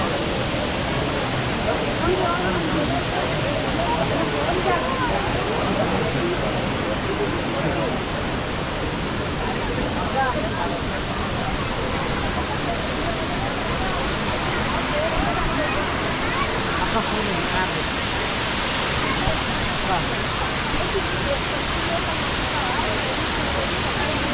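A large monsoon waterfall at Abbey Falls in Coorg roars in a dense, steady wash of crashing water, loud and unbroken, with faint voices blended into the noise.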